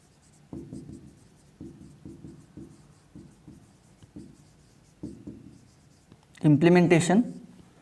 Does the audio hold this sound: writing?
yes